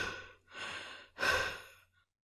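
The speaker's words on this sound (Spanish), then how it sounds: "Sentía aquella respiración jadeante cada vez más cerca." Panting breaths in a horror story: three heavy, ragged exhalations, each louder and closer than the last, with a faint low hum beneath and no voice.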